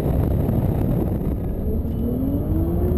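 A BMW M5 holds a long drift, its engine droning steadily with a rising pitch as the car slides, loud and continuous with no voices.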